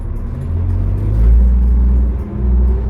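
A Calgary Transit 2005 New Flyer D40LF diesel transit bus runs close by, its deep engine rumble swelling and easing as it pulls away, loud and steady throughout, with no voices.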